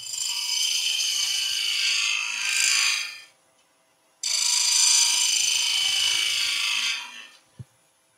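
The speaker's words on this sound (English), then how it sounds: "a lot of that noise you're hearing is bevel rub" Skew chisel bevel rubbing on turning timber at the lathe gives two long, steady scraping hisses separated by a short pause, fairly close and loud, with no talking, ending in a faint tap.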